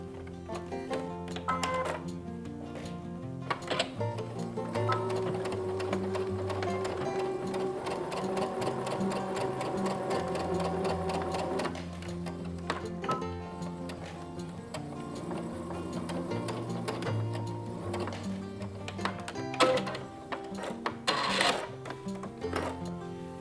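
A sewing machine stitches a fabric face mask in bursts of rapid, rhythmic mechanical clatter, tacking at the start and end of each seam. The sound is close, with soft music playing underneath.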